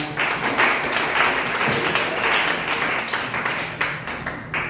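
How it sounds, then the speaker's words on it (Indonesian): A church congregation applauds in a dense, steady wash of clapping from many hands, sustained for several seconds with a few voices mixed in. "Beri tepuk tangan untuk Tuhan."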